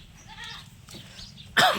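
Osmanabadi goat bleating once, a sudden loud close call near the end after a quiet stretch with faint background noise.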